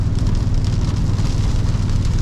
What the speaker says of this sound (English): it looks like it's raining. I had no idea it was gonna rain this much.